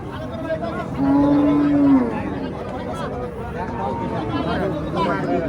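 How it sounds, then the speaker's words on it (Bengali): A native cow lets out a single long, loud moo close by while people chatter in the background of a crowded outdoor cattle market in Bangladesh. "আপনারা দেখেন অনেক সুন্দর একটি গরু"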